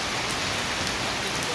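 Steady rain falling on a surface, a dense, even hiss with scattered drop taps, continuous and fairly loud across a short stretch, with no voices.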